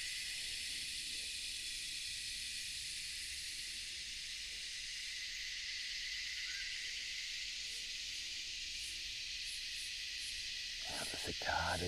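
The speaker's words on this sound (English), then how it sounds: "The cicadas are going off again" Cicadas in burnt Australian bush, a dense, continuous high-pitched chirring drone that holds steady throughout at moderate distance, with faint low sounds underneath and a brief rustle near the end.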